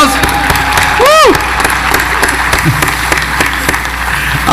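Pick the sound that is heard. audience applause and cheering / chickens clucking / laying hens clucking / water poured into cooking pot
audience applause and cheering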